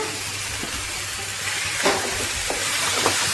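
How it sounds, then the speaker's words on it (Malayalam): Tomatoes frying with ginger and garlic in a pan give a steady, close hiss and sizzle, broken by a few faint clinks and stirring scrapes. "ഈ ഇഞ്ചിന്റെയും വെളുത്തുള്ളിന്റെയും എല്ലാത്തിന്റെയും പച്ചമണം മാറുന്ന വരുമ്പോൾ നന്നായിട്ട് മൂപ്പിച്ചെടുക്കണേ"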